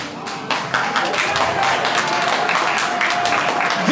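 An audience at a gala applauds steadily and loudly, a dense wash of clapping that swells after the first half second and keeps going without a break.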